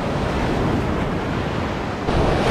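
Ocean surf breaking on a Gulf beach at Venice, Florida, a continuous loud roar of waves with wind buffeting the microphone and a fresh surge of water near the end.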